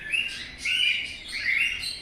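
Bright chirps and tweets from birds in a city bird sanctuary come in a few close, repeated bursts, clear and fairly loud against a quiet background.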